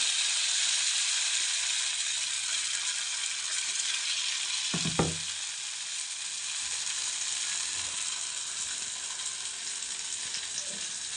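Handvo batter poured into a pan with sesame seeds and curry leaves sizzles in a continuous bright hiss, with a brief clatter near the middle before the frying settles back to a steady crackle.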